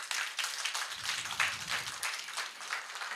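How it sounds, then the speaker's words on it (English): An audience applauds at a music and dance festival, a steady wash of many hands clapping with no gaps, heard from a moderate distance. "A big round of applause."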